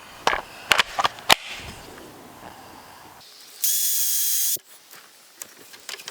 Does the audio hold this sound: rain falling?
no